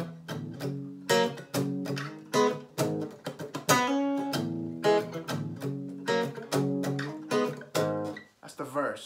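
Strummed guitar chords ring out in bursts with brief pauses between them, playing the steady verse pattern of a song; no voices.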